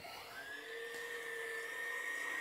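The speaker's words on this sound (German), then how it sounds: "So, und dann können wir spulen." Sewing machine bobbin winder spinning up and winding thread onto a bobbin, a steady high-pitched whine that rises quickly and then holds, close and alone.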